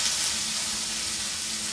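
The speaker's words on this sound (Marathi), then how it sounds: "ओके, कांदा हा आपला तुपामध्ये चांगला फ्राय होऊन देऊया." Chopped onion fries in hot ghee in a pan, giving a steady, bright sizzle that fills the short moment with no talking.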